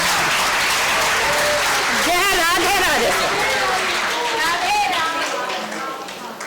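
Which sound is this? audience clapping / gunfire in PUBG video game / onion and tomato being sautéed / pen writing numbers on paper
audience clapping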